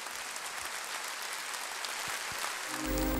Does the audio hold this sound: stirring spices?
no